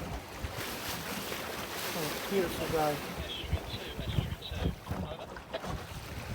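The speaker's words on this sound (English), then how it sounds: "Just the splashing of the water." Water splashes and laps against a small wooden Mirror dinghy out sailing, with steady wind buffeting the microphone and a voice speaking briefly over the soft, close wash of water.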